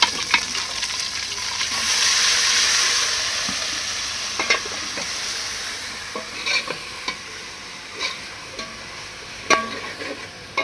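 Masala spices sizzle and fry in a pan while a spoon scrapes and stirs them in irregular knocks over a steady hiss, close and moderately loud with no talking, in a Pakistani home kitchen after onions have browned.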